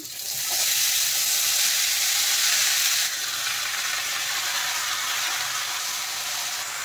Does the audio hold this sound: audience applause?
no